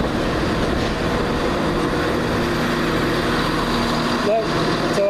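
A train idles at a railway station platform in the evening, its engine giving a steady low hum with a brief higher whine near the end, while people talk nearby.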